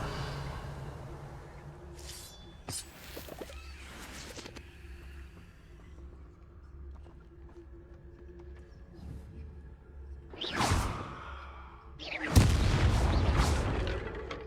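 In Hogwarts Legacy, the Revelio revealing spell is cast as a sharp magical burst with a whooshing sweep. It comes three times, the last the loudest and longest, over a quiet ambient bed.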